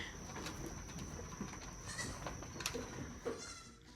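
Nigerian Dwarf goats on pasture at night give short, fairly faint bleats a few times over a quiet outdoor background, with some light rustling and no talking.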